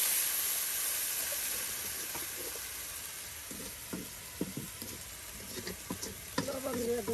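Fish sizzles in a pan with onion and garlic paste during village cooking, a steady hiss running throughout with scattered clicks and scraping stirs growing busier toward the end.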